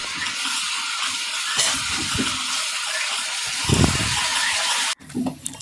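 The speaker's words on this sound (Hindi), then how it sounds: "बड़ी इलायची, दालचीनी, थोड़ा ज़ीरा। अब हम इसे अच्छे से भून लेंगे।" Black cardamom, cinnamon and cumin fry hard in a hot pan for tawa chicken, a steady close hiss and sizzle with a few stirring knocks, cut off briefly near the end before resuming.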